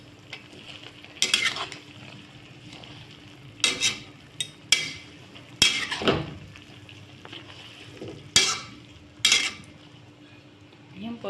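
Canned tuna is stirred in a wok, with sharp metallic scrapes and clanks of the spatula recurring every second or two over a faint low sizzle, close and fairly loud.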